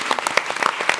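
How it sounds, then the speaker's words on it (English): An audience at an Earth science symposium panel session claps for the panelists, with dense, steady applause from a crowd filling the whole brief moment. "give a big round of applause for our panelists"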